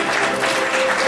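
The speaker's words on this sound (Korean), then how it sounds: "다시 한번 큰 박수 부탁드리겠습니다." An audience at a Korean game industry press event applauds with dense, steady clapping throughout a short burst.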